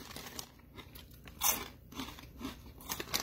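Close, crisp crunching and chewing of ranch-flavoured snack chips, a few sharp bites followed by softer mastication, fairly quiet with no talking.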